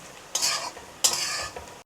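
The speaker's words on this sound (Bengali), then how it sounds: "পেঁয়াজ কুচিগুলো চুলার তাপটা হালকা তাপে রেখে এভাবে আস্তে আস্তে করে ভাজে নেবেন।" Chopped onions fry gently on low heat for a mutton curry, a soft steady sizzle with two clear scraping stirs of the spatula across the pan, and no one speaking.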